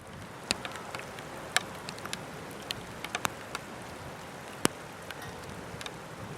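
Light rain falls steadily outdoors beside a railway line, a soft continuous patter with scattered sharper drops, quiet and fairly close, with no voices.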